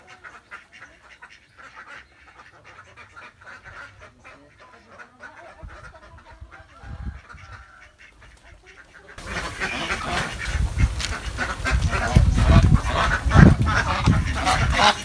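Ducks on a Philippine duck farm quack faintly at first, then a much louder, dense chorus of quacking and honking swells up close in the second half.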